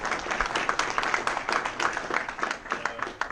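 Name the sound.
audience applause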